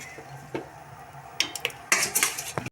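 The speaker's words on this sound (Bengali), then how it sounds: "এবার ভাজা ফুলকপি আর আলু হাঁড়িতে দিয়ে দেবো।" Fried cauliflower and potato tipped into a pot of simmering rice and lentils for khichuri, with clinks of a metal spoon against the pot, scraping and a few sharp clattering knocks near the end, close by.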